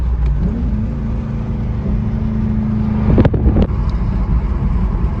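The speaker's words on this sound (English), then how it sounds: "I'll give you guys a little downshift here." A C5 Chevrolet Corvette engine with a Borla exhaust idles with a low exhaust drone, then gives a short burst of revving downshift blips before settling back, recorded close with some wind noise.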